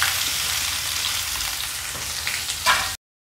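Chopped onion sautéing in oil with cumin and mustard seeds, a close steady sizzle with a brief louder stir or scrape near the end before it cuts off to silence.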